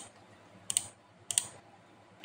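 Two crisp clusters of mouse clicks and key presses on a Mac computer, spaced about half a second apart, close and fairly quiet over a soft background hiss.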